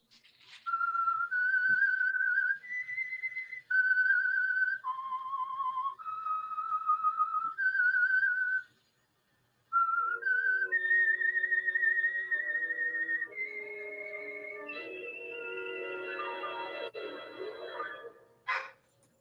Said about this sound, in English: Let that whistle be the signal for the end of Signal Oil program, The Whistler.